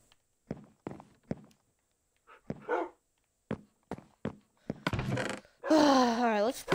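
A dog in the Minecraft video game gives a series of short barks and yips, spaced irregularly and then bunched together, ending in a louder whining cry, with footsteps and game sounds between them.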